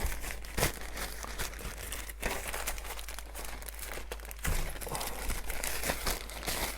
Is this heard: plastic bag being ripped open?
yes